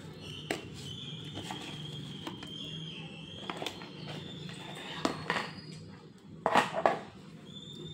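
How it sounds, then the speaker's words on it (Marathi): A spoon stirs spice masala into a karonda pickle in a container, giving light scattered clinks and scrapes against a quiet background, with a louder cluster of knocks near the end. "छान असं मिक्स करून घेऊया तयार लोणचं"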